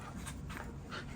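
A puppy panting and whimpering aboard a boat, soft breathy pants with thin whines in one short, close, steady burst, no voices.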